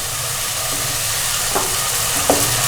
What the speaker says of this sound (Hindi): इसको हम अच्छी तरह मिक्स करते हैं